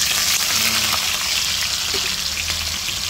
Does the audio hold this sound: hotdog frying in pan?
yes